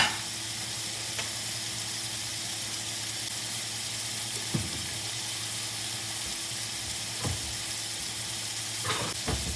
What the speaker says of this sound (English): cook down a little bit of cook down the mushrooms and the tomatoes and parsley a little bit